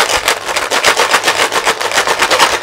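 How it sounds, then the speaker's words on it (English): A homemade shaker, a dry plastic bottle filled with seeds or beans, is shaken close up in quick rhythmic bursts, giving a gritty rattling hiss with a pulse of about four strokes per second. "So now that we have the seeds in, we're going to shake them."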